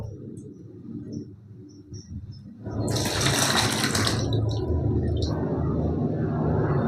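Whey pours and splashes steadily from fresh chhana being strained through a wet cotton gamchha cloth, a continuous loud watery gush that begins after a quieter, faint start, with no talking.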